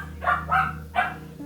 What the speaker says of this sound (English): Sorry for the dogs barking, if you can hear that.